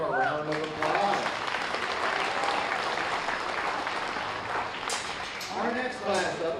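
Audience applause fills a livestock show arena after a class placing at a 2023 swine show, steady dense clapping for several seconds, with a voice speaking briefly at the start and again near the end.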